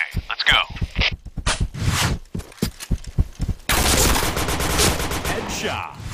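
Gunfire in the online shooter game Point Blank: bursts of sharp shots and a sustained volley of automatic fire, mixed with game announcer voice callouts and other in-game speech.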